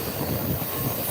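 Steam excursion train in motion on the rails, heard from aboard as a dense, continuous rumble of wheels and car noise with faint squealing, steady and close throughout the brief stretch.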